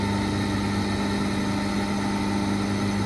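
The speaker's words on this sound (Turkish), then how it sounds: "Motor normal devrini görürsünüz. 1380 devirde dönüyor. Motor yıldız bağlı." A three-phase electric motor, star-connected on 380 volts, runs at 1380 rpm and holds a steady, even hum with a strong low tone and broadband whir, no speech.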